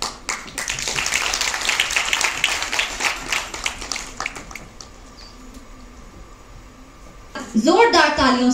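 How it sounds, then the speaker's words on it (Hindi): Dense, loud applause from the audience at a program held at a women's college, rolling for several seconds before thinning out; a voice begins speaking near the end. "जोरदार तालियां इनके लिए।"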